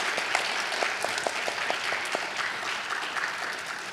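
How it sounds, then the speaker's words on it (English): Warm, continuous applause from a literary festival audience for a panel on regional journals and publishers, a steady wash of many hands with a few sharper individual claps standing out. "So a round of applause for all the panelists."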